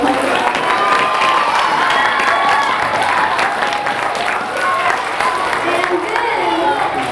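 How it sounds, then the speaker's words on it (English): An elementary school assembly audience claps in sustained, dense applause mixed with some cheering and children's shouts, loud and close, with voices murmuring underneath throughout the roughly seven seconds. "So give them a round of applause."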